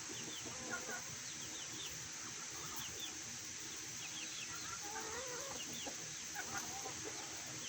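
Chickens in a coop with young chicks keep up a soft, continuous chatter of clucks and chirps, faint and steady, under a constant background hum.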